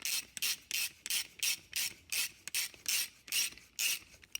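Rhythmic rasping strokes of a 7/16-20 tap chasing threads on the studs of a Wheel Horse 1054 garden tractor, about ten short bright cuts in steady succession, close and alone.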